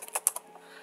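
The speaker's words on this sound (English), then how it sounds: "So let's type like a multi keyword" A handful of quick, soft keystrokes on a computer keyboard, close and faint, tapping out a short burst in under a second before trailing off into quiet.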